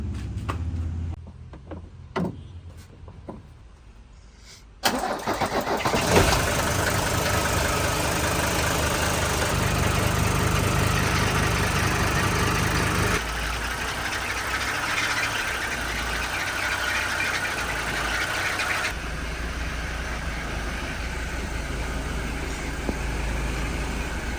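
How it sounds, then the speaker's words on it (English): After a few clicks and a cranking moment, the engine of an old S123 car under restoration catches and settles into a steady, rumbling idle that continues loudly. "We're lucky that the car started in one shot."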